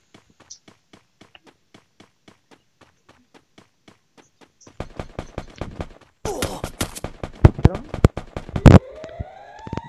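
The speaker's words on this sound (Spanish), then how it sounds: "Disparando." Gunfire in the video game Free Fire: steady soft footstep ticks give way to dense, loud bursts of rapid shots and impacts, followed by a rising whine.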